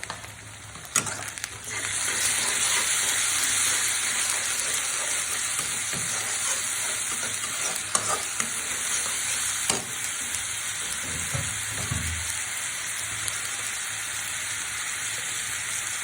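Onion, garlic and ginger paste frying in a pan, a continuous bright sizzle and hiss that starts after a thump as the paste goes in, with occasional stirring clinks and scrapes.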